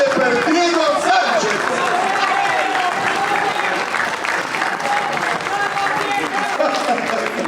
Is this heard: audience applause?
yes